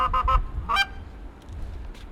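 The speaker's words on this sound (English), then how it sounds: "he is testing his goose call, which I'm most excited for" A hunter's goose call is blown in a few quick honking bursts, fairly close, then gives way to quiet outdoor background.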